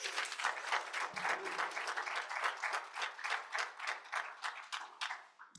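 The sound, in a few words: applause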